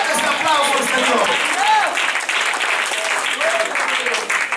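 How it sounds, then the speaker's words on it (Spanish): A church congregation claps loudly and steadily in dense applause, with voices calling out and murmuring through the crowd noise. "a su nombre le da fuerte ese aplauso al Señor"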